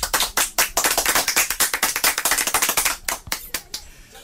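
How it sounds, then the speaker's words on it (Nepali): A youth club meeting breaks into a burst of group clapping, dense and loud for about three seconds before it thins to a few last claps. "एकचोटि ताली बजाएर यो निर्णयलाई पास गरौँ"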